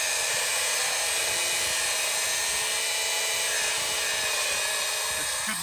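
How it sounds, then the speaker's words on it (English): An angle grinder cuts steadily through a rusted, snapped bolt in a Paris Dakar rally workshop in Morocco, a continuous loud, bright whine with grinding hiss that holds for several seconds, faint voices underneath. "Curtis just jumped straight to it because he wanted to use his angle grinder"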